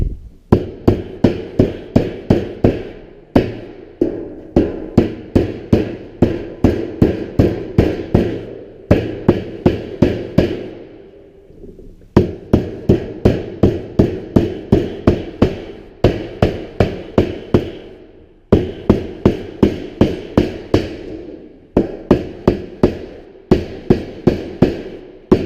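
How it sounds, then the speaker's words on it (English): A hammer strikes the edge of a sheet metal elbow in rapid bursts of sharp metallic taps, each burst a run of eight to ten blows, separated by short pauses, loud and close with no talk. "using that side of that hammer makes a real nice smooth job without any additional dings in it"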